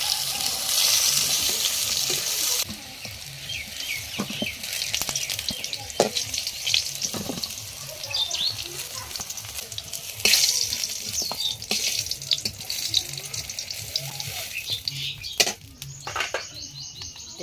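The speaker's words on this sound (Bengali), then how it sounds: "পটল এবং আলু প্রায় ভাজা হতেই চলেছে, কিছুক্ষণের মধ্যে ভাজা হয়ে যাবে এটা" Pointed gourd and potato pieces fry in hot oil, a continuous bright sizzle with occasional stirring clatter, while birds chirp faintly in the background.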